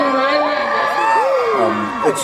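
A large crowd at the Sydney premiere of Disney's Moana cheers loudly, with high whoops and shrieks rising and falling in a continuous roar, and voices talking up close.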